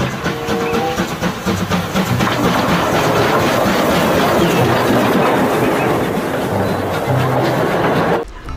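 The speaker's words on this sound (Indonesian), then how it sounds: "Ini kereta Thomas," A battery-powered Thomas toy train runs with a steady, loud mechanical whir and rattling clatter, close up, cutting off abruptly at the end.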